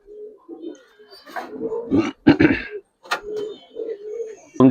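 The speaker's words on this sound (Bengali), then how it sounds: "দেখেন ভাই এটা ইন্ডিয়ান কালদম জোড়া" A pair of Indian Kaldam pigeons coo up close, giving low throaty calls in short bursts with gaps between them and a louder flutter or rustle near the end.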